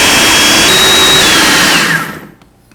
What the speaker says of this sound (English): We'll put on our lid and blend until smooth.